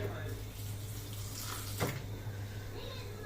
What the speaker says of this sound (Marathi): मी अजून एकदा कोथिंबीर धुते कारण मला कोथिंबीरीत थोडी जास्ती माती वाटते